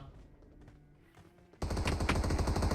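Rapid automatic gunfire in an anime-style battle royale video game bursts in suddenly after a quieter stretch, loud and continuous to the end.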